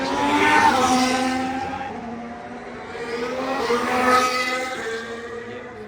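A Formula 1 car at the Las Vegas Grand Prix passes with a high engine whine that rises and falls, with rear brakes locking and chattering; loud, steady and without speech.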